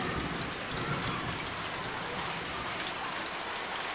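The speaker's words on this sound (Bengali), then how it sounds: "ছাদের উপরে বৃষ্টির পানি দেখ।" Steady rain pours onto a rooftop during a June monsoon storm, a dense continuous hiss with scattered louder drops, close and even throughout with no voices.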